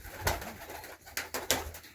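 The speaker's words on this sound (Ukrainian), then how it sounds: "Думаю, все буде добре з голубами." Domestic pigeons on a course of antibiotics coo softly close by in a few short, throaty bursts, with no talking.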